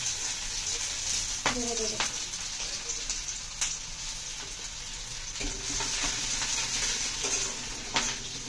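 Chopped ginger and garlic fry in a pan for chilli chicken, a steady close sizzle with intermittent utensil scrapes and knocks; no one speaks.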